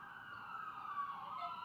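A wailing siren carries faintly from a distance, its tone rising and falling steadily, with no voices present.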